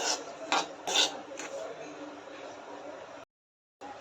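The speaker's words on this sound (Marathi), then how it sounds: "रवा व्यवस्थित भाजून घ्यायचा आहे" Semolina (rava) dry-roasting over low heat in a pan for Maharashtrian upma, stirred with raspy scraping strokes and a few sharper scrapes, ending in a brief silence.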